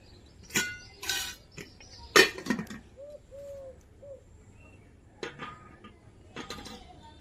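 A metal wok set on a kitchen stove produces a few sharp clanks and clatters among scattered utensil knocks, while a pigeon coos softly in the background.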